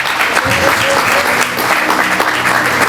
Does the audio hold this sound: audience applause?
yes